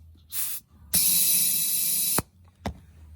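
Compressed air hisses in a loud broadband burst from an air hose with a patched double-ended barb fitting while inflating a finishing mower tire that has popped off its bead, preceded and followed by shorter puffs.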